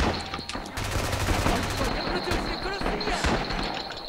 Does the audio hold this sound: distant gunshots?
yes